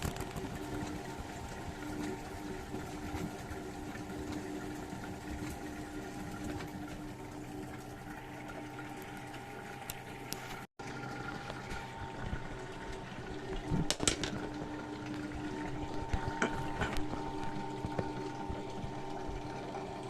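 A washing machine churns through its rinse cycle with water sloshing and a low motor hum, faint and continuous, with a brief dropout midway and some louder clunks later.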